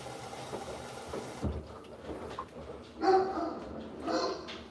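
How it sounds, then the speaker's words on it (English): Dogs barking at a distance, a few faint muffled barks over a steady background hum, with a louder bark rising about two thirds of the way through. "Dogs barking. That's what the noise is."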